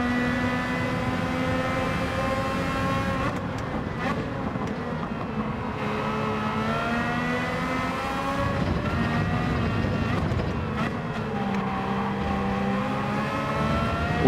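Race cars in Gran Turismo 7 during an online lobby race: continuous close engine drone with rising and falling revs as gears shift, joined by other cars nearby, with brief spoken commentary over it.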